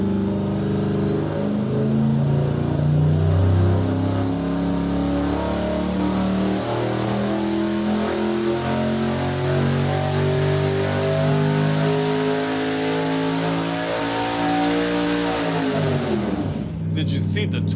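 Boosted V8 at 22 psi roars on a dyno pull, loud and continuous with steadily climbing pitch before a sudden drop at the end, heard alone up close.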